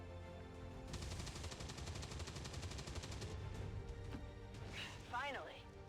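Cone-shaped weapon fire in XCOM 2 sounds as a loud, rapid burst of gunfire lasting a couple of seconds, followed by a crash and electronic whooshing effects, with game ambience throughout.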